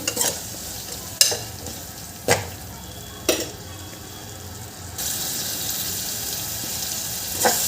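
Spinach pulao mixture with peas and salt stirred in a hot pan, giving a steady sizzle broken by four or five sharp scraping strokes of the spoon, loud and close, with the frying hiss growing denser near the end.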